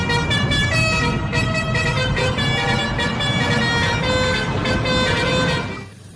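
Toy telolet bus horn playing a continuous melodic honking tune, loud and steady for about six seconds before cutting off abruptly, with no talking.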